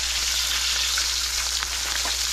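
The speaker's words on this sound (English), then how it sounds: "we're just gonna throw it in the oil long enough for it to get a nice crust" Mochiko-coated kole fish frying in hot oil while cooking outdoors off-grid on the Big Island, a steady loud sizzle with faint crackles throughout.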